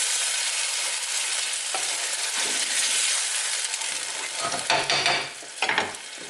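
Oxtail braising with red wine in a pot is stirred, a steady sizzling hiss broken by scraping spoon strokes against the pot near the end, with no talk.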